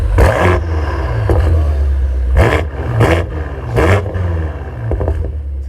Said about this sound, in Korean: 자 그럼 바로 배기음 들어보실게요 자 악셀 쳐줘